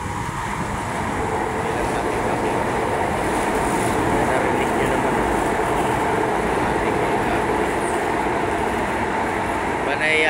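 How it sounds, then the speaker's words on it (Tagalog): An LRT train passes along Taft Avenue in Manila during heavy rain and street flooding, a loud sustained rumble and rushing roar lasting throughout with steady wet background noise. "May dumadaan na LRT."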